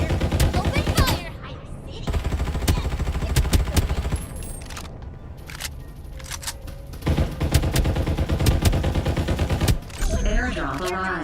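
Sustained automatic gunfire in the battle-royale game Farlight 84, dense rapid bursts with repeated sharp shots and brief pauses, loud and close throughout, with game voice lines and effects mixed in.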